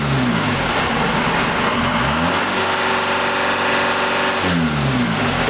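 A 3.9 Cummins 4BT diesel engine in a Tahoe revs up, holds at high speed, then drops back to idle. The engine is loud and close, with a rising and falling pitch and no talking.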